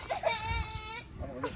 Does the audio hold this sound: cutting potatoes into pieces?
no